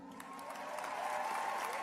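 Steady applause from a crowd at a university graduation ceremony, a dense wash of clapping that holds throughout and swells slightly toward the end.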